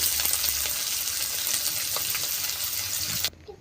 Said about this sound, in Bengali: পেঁয়াজটা ভেজে নেব আলু ভর্তার জন্য।